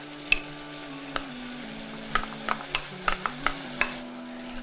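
Green beans frying in a hot pan while being stirred: a continuous close sizzle broken by distinct spatula taps and scrapes at irregular intervals.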